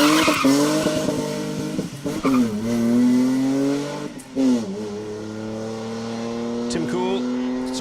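A BMW E30 325 2.5-litre rally car on a Manx stage engine revving hard then braking into a hairpin, tyres briefly squealing as it locks up, with a commentator talking over it.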